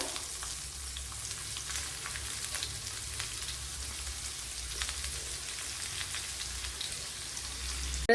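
Shallots sizzling in hot coconut oil with popping mustard seeds for a Kerala-style bitter gourd curry, a steady soft crackling fry throughout.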